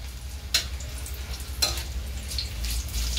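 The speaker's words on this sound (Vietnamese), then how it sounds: "cá chạch chiên." Loach fish fry in hot oil with a steady, close sizzle, broken twice by short sharp clinks or scrapes of stirring in the pan.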